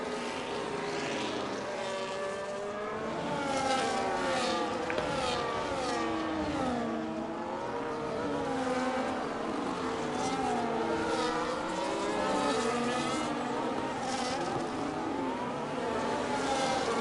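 A pack of race cars runs behind the safety car in a racing video game at a Great Britain round. Several engines overlap in a continuous, steady drone, with pitches rising and falling as the cars change speed.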